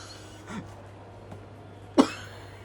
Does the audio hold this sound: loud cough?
yes